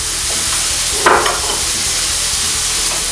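Steak sizzles loudly in butter in a hot pan, a constant close crackling hiss with a brief louder flare of spitting fat partway through.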